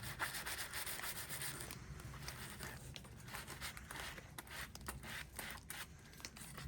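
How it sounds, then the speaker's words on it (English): Steady scraping and rubbing of freshly hammered copper being polished by hand at a blacksmith's forge, a continuous close-up abrasive rasp with brief pauses and light patter throughout. "You're just polishing up that copper so you can see where you're at and see what you got"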